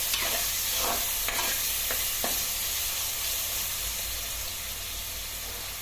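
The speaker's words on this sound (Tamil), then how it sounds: "அதையும் நல்லா பேஸ்ட் மாதிரி ஆகிற வரைக்கும் நல்லா வதக்கிக்கோங்க" Tomatoes sauté in hot oil in a pan for a chicken curry, a steady loud sizzle with a few scraping stirs near the start, no speech.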